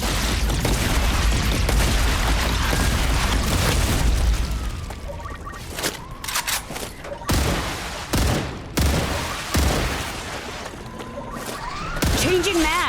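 Turrets firing in the game StarRupture: loud, dense sustained gunfire and booming bursts for the first four seconds, then sharper separated shots and explosive pops scattered through the rest.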